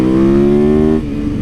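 A motorcycle engine revs with a steady, loud harmonic drone that holds for about a second, then drops in pitch as the revs fall away.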